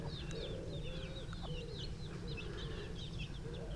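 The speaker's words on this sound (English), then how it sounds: "And these are just feral chickens." Faint feral chickens cluck and chirp softly outdoors at a campsite, with short repeated calls over a quiet background murmur.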